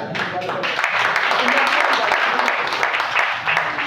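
Audience in a church clapping in a dense, continuous burst of applause lasting a few seconds, fairly loud and close, with voices mixed in.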